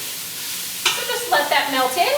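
Butter dropped into a simmering homemade pasta sauce begins to sizzle and melt, a soft bubbling hiss rising abruptly after a quiet start, with light stirring scrapes close by and no talking.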